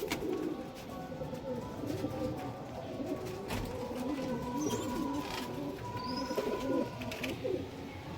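Female teddy pigeons coo in soft, repeated throaty rolls among other birds, fairly close and steady, with faint chirps above and a little background voice.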